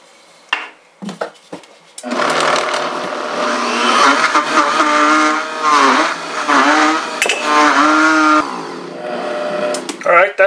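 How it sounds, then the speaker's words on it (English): A blender grinding vegetables whirs loudly in uneven bursts, its motor pitch rising and dipping as it chews through them, with brief clatter before it starts. "turn this baby on for just a minute to grind it down a little bit"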